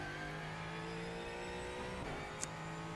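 A Ford Mustang GT4 race car in the iRacing sim, heard from the cockpit, holds a steady, whiny engine drone throughout, with one faint click near the end.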